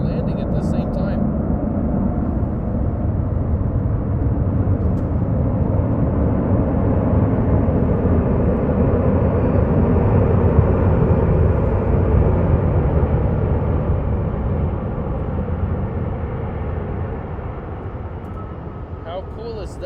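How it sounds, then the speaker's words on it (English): A steady, loud jet roar from a Southwest airliner taking off and a United airliner landing at Los Angeles International Airport fills the scene continuously without a break. "We have a Southwest takeoff and a United landing at the same time."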